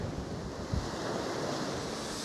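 Ocean waves wash continuously against a sunlit shore, a broad steady roar with heavy wind buffeting the microphone and no voices.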